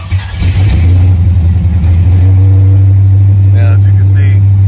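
A 1987 Oldsmobile Cutlass V8 fitted with Holley Sniper EFI, already warm, starts up and settles into a loud, steady idle that runs throughout, with a faint voice briefly underneath.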